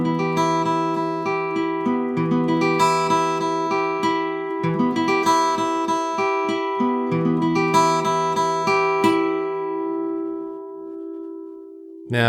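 Acoustic guitar arpeggios in a dark progression, picked with alternate strokes, ring out as quick, even note runs over sustained chords, then let the last chord decay alone.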